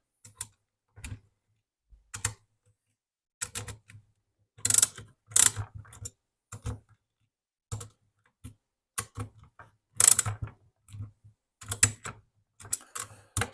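A new UPFOREST saw chain is tightened on a palm-trimming saw, giving scattered mechanical clicks and ratcheting rattles in irregular bursts, close and fairly quiet, with no talking.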